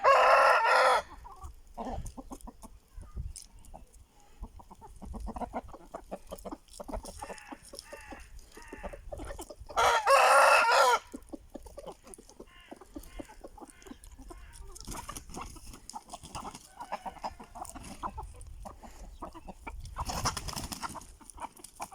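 Two Aseel roosters crow loudly several times, the calls rising and falling in long bursts, with clucking and farmyard noise filling the gaps between them.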